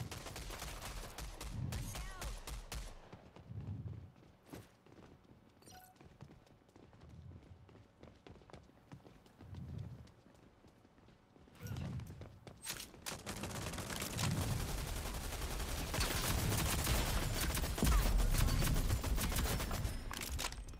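Pistol shots in a shooter video game ring out in a spaced, regular rhythm of single reports, then give way to a louder, denser barrage of gunfire and action noise.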